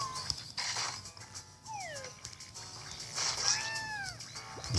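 In a cat evolution video game, cartoon cats give several rising and falling meows over a steady electronic game backdrop.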